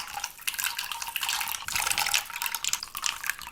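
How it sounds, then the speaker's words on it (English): Loose LEGO studs splash into a pool of water, a continuous bright, fizzy patter of small droplets and plops that stays close and fairly steady for a few seconds with no voices. "Splashing studs in a pool."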